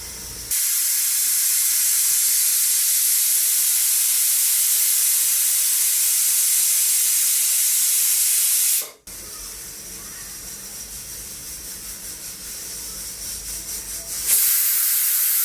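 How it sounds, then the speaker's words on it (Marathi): A pressure cooker cooking veg Kolhapuri pulao vents steam in a loud, sustained hiss, then drops briefly and resumes as a lower, rougher hiss that swells at the end, close and without voices. "तीन शिट्ट्या झाल्या की आपण कुकर बंद करून घ्यायचा"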